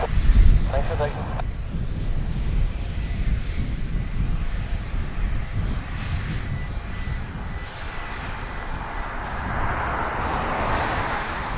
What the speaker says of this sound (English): So Ian, I got here just as it was turning off the runway.